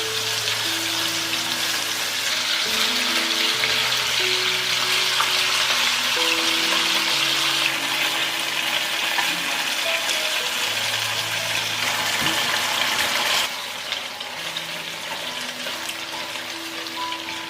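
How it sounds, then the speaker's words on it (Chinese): Chicken mid-wings, marinated in rice wine and honey and patted dry, pan-fry in oil with a steady close sizzle, a sharper burst of spatter as they are flipped, and soft background music throughout. "一面煎定型，给它翻面煎"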